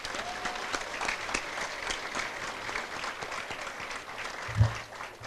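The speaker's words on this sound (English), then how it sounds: "So give yourselves a round of applause as well." Students applaud at a school charity kickoff event, a sustained crowd clapping that stays fairly even for about five seconds, moderately distant, with a single louder thump near the end.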